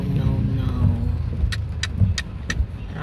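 Dense, heavy road traffic with a steady low engine rumble from nearby cars, a few sharp higher clicks or jangles on top, and people talking over it.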